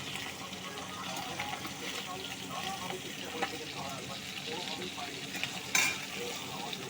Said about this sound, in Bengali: ট্যাংরা মাছটা এরকম লাল লাল করে ভেজে তুলে নেব